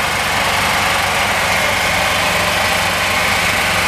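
Two generators running in tandem on a DF X Series 4 wood gasifier, giving a steady, loud, continuous engine drone with a low rumble and vibration and no break across the whole stretch.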